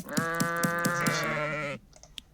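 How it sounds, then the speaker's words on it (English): Sheep in the Worldbox video game bleat in a loud, steady, wavering run that lasts most of the clip, followed by a brief quiet tail with a faint click. "We'll add some sheep though."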